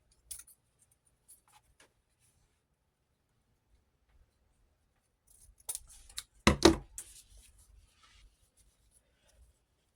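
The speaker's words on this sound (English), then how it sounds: "Measure our tails, and then we'll cut them off." Scissors snip the ribbon tails of a large handmade gift bow: one or two close, crisp cuts midway through, framed by faint ribbon rustling and long quiet stretches.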